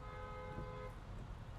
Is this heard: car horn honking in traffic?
yes